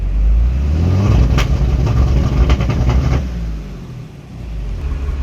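A pickup truck engine revs in a loud, close, low rumble, swelling and fluttering for a few seconds before settling back toward idle.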